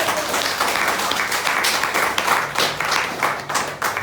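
A church congregation applauds during a thanksgiving service, with a full, continuous wash of many clapping hands, loud and sustained throughout with small swells.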